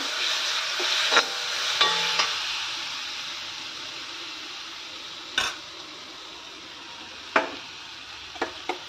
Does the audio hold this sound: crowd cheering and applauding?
no